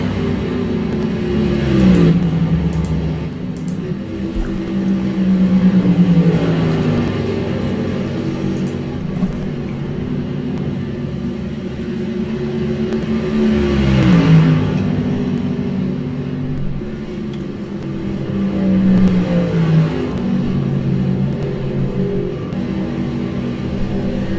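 Race trucks circle the Atlanta oval in a racing video game, a steady loud engine drone with pitch rising and falling as the packed field passes, running continuously without speech.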